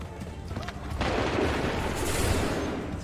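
A musket volley fired on command in Assassin's Creed III: a sudden broad crackling blast about a second in, followed by a rumbling roar that lingers loud to the end, with a quieter battlefield din before it.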